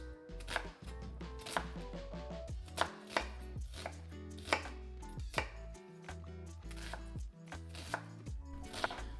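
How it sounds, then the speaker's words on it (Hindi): A small onion chopped into large chunks on a cutting board, a series of crisp, close knife thuds in an uneven rhythm, about a dozen strikes with short pauses between them. "एक छोटा प्याज, भिंडी की तरह इसे भी हम बड़े चंक्स में काटेंगे।"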